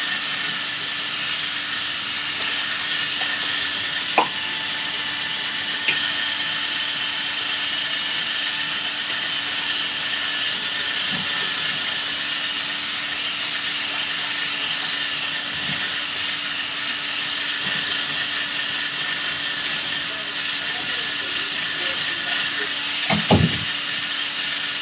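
A power mixer blending black commercial pouring paint, a loud, steady motorized whine and drone that runs unbroken with a few faint knocks, close by.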